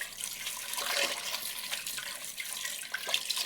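Running tap water pours steadily over potatoes being washed in a kitchen sink, a continuous close splashing rush with small irregular spatters.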